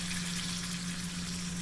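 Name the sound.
water poured into curry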